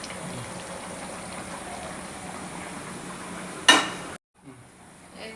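Fried fish being added to a bottle gourd curry in a cooking pan: a steady soft simmer and bubble, then a sharp brief splash and sizzle as the pieces go in, followed by a sudden quiet and a faint low simmer.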